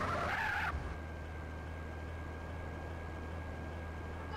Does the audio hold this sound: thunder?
no